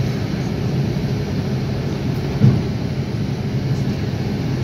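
A jet airliner's engine on the runway at Jeddah airport produces a loud, steady low roar with a broad rumbling hum, continuous and close, with one brief bump partway through.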